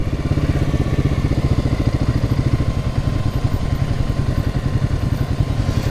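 Royal Enfield Himalayan motorcycle engine running close and loud, a steady low thumping single-cylinder beat that holds even throughout with no voices.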